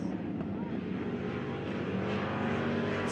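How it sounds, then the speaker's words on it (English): Race cars at Victory Lane Speedway roaring side by side down the front straight, a loud continuous engine drone with a steady, dense rumble throughout. "Drag race down the front chute."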